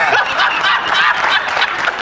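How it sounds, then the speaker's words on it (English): Studio audience applause on a comedy panel talk show, a brief burst of steady, textured clapping mixed with a little laughter. "applause for the black guy"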